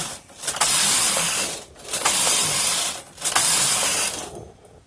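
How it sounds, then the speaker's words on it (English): A Brother punchcard knitting machine works in three sweeping passes, each a loud rasping carriage run with short pauses between, close by and with no talk. "and let's watch it knit"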